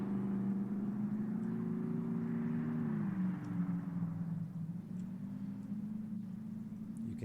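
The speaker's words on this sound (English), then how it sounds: "You can hear all the different civilian vehicles going off." Steady low engine hum and whir of civilian vehicles in a video game, continuous and moderately loud, with a slight pitch shift midway, like traffic driving past.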